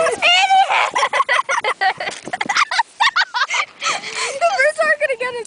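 Geese honking nearby, a rapid series of loud, nasal, overlapping honks and calls coming in bursts from a small flock, with a few short pauses between them.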